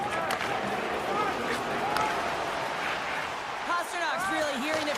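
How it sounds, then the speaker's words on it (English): A home crowd in a hockey video game roaring and jeering a player, a steady dense wash of arena noise with a commentator's voice running over it. "Pasternak's really hearing it from the home crowd right now"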